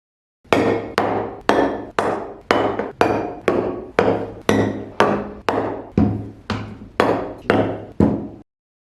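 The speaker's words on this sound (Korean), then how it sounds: "스터디 카페 등 조용한 공간에서 사용한다면 텀블러를 내려놓는 소음이 신경 쓰일 수도 있는데요" Tumblers set down one after another on a table, some with rubber pads or suction-cup bases and some without, giving sixteen evenly spaced, fairly loud knocks, each with a short ringing decay.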